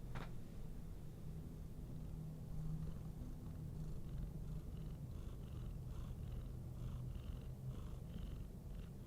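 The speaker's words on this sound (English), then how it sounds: "Let's see if you can hear his purring." A cat purrs steadily and closely, a soft continuous rumbling that keeps going throughout without any talking.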